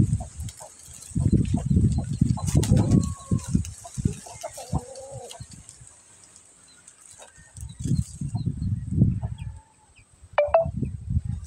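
Backyard chickens near an eggplant planting cluck in clustered bursts, with a rooster-like call and small bird chirps between them. A quieter stretch lies between the bursts.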